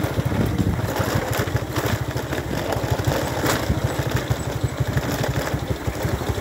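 A motorcycle riding along a road, its engine thrumming steadily with a fast pulsing beat and rushing wind noise throughout, loud and close, with no clear talk.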